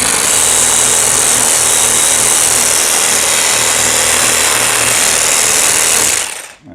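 Rasping with a reciprocating power tool makes a harsh, continuous, loud vibrating buzz that runs without a break and stops suddenly near the end, with no voices.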